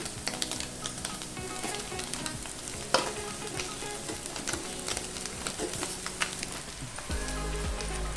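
Cooked rice for chicken fried rice is tossed and stir-fried in a pan over a high flame, giving a dense close sizzle with sharp spatula scrapes and clatters, then a louder burst of frying near the end; nobody speaks.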